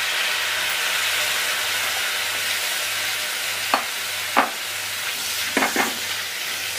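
Thinly sliced tomatoes fry in a pan for a soya fry roast and get stirred in with garam masala. A steady loud hiss runs throughout, and a few sharp scrapes of the spoon come near the end.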